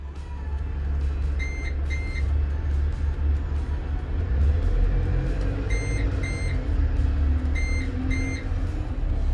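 An Oyster card reader on a London bus sounds a two-tone beep several times, with short paired high tones repeating in clusters over the steady low rumble of the bus engine.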